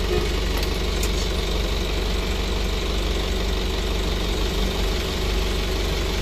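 A car engine idles steadily and refuses to shut off, a continuous loud low rumble with a fine rhythmic knock, close by and unbroken, with no voices over it.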